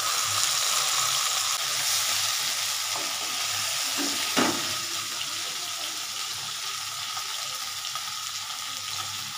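Spiced okra for bhindi masala frying in a pan on a gas stove, a steady sizzle with a few scraping stirs of a spoon midway and a faint background hum, no voices.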